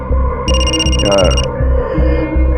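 A telephone rings with a bright electronic trill for about a second, over a steady rhythmic throbbing music bed and background room sound.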